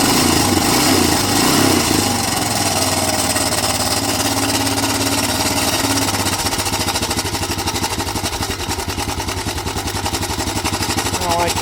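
A 2008 Honda Recon ATV, left abandoned for over 15 years, runs on choke with a rough, uneven idle, then settles into a rapid, steady mechanical chatter up close. No one talks over it.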